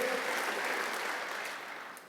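A church congregation applauds during a worship service, a continuous wash of clapping from many people in a large room that thins and softens slightly near the end.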